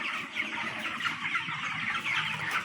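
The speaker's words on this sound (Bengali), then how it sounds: "ব্রয়লার মুরগি 26 দিন বয়স।" A shed of 26-day-old broiler chickens clucking and chirping together in a dense, continuous chorus, moderately loud and close.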